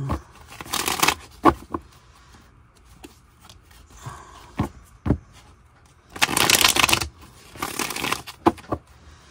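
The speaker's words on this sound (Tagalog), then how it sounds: "barasahin muna po natin ang ating baraha bago natin buksan ang ating" Tarot cards are shuffled by hand in two long riffling bursts, with scattered taps and shorter card snaps between them, close up in a quiet room with no talking.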